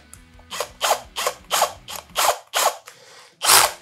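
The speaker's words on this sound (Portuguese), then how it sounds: "a gente vai fazer a troca da broca, vai colocar uma broca um pouco mais fina" A drill's chuck ratchets as the bit is swapped for a thinner number 2 bit for customizing Hot Wheels die-cast cars: about eight rhythmic bursts of clicking, each lasting a fraction of a second, close and clear with no talk.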